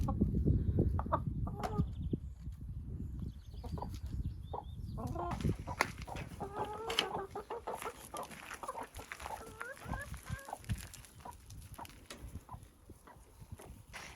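Chickens cluck and murmur outdoors as they are let out, several birds at close to middle distance over a rustling, shuffling background.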